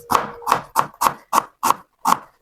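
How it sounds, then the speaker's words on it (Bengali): A knife chops onions, garlic and chillies on a board in a home kitchen: seven crisp, close, evenly spaced cuts, each a sharp knock with a short ring. "প্রথমে নিয়ে নিব পেঁয়াজগুলা সব কুটে নিব"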